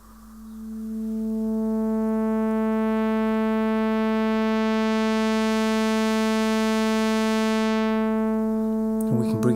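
A Korg Minilogue synthesizer sounds a single oscillator as one sustained buzzy tone, loud and steady for several seconds, its brightness sweeping upward then closing down before a short burst of clicks at the end.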